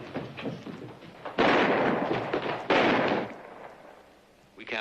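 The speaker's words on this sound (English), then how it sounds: "Somebody shooting rats around the barn" Gunshots from someone shooting rats around a ranch barn in a Western drama, two loud, sharp, rolling bursts close together, with voices speaking before and after.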